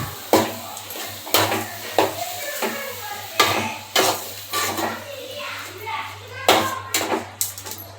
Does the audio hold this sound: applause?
no